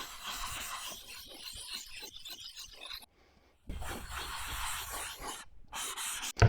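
A chisel back being flattened on a sharpening stone, steady rasping rubbing strokes close up, pausing briefly before resuming in longer continuous passes.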